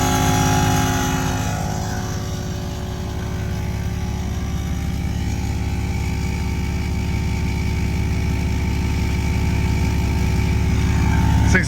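An Open Road heavy duty onboard air compressor on a Jeep WJ runs with a loud, steady motor drone and rapid pulsing while it airs up a tire, holding close and constant from start to end.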